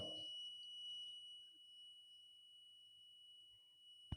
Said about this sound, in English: You can hear a beep sound.